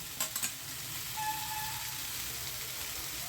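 Boiled banana blossom goes into a hot pan, bringing a steady low sizzle with a few brief clatters of stirring near the start, all without talk.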